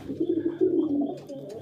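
Domestic pigeons cooing close by, a soft, low, rolling burble that swells and repeats over a quiet background.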